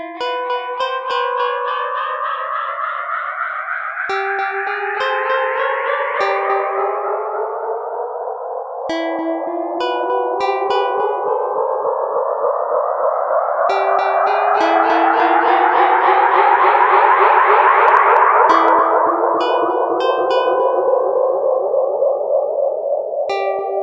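A dub-style echo on the Psychic Modulation Phonec CM synth plugin, its feedback cranked so repeated synth tones pile up and sweep upward into a dense, swelling wash, loud and steady with no voices.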